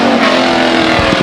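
Stock race cars roar off at the green flag start at Stockton 99 Speedway, a loud, dense wall of engines accelerating together with steady rising drone and no pause.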